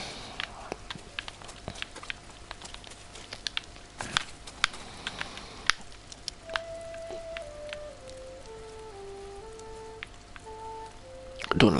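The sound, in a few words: rain in video game Ghost of Tsushima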